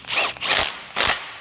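A hand ratchet tightens a large bolt and bushing on the pump bracket of a Subaru, giving three bursts of fast clicking, close and fairly loud, with no talk.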